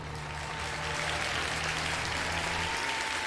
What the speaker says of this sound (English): Big old round of applause for Mr. Biggie Farming.